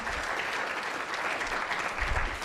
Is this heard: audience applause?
yes